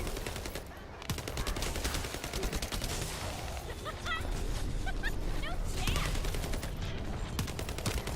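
Sniper gunfire in The First Descendant during a dense, loud fight, with rapid bursts of shots and repeated sharp cracks over the whole stretch and some voice chatter mixed in.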